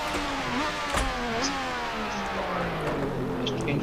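Williams FW07 Formula One car's engine in Assetto Corsa at Spa, a steady nasal drone with pitch slowly rising and falling through gear changes, loud and continuous with no talk over it.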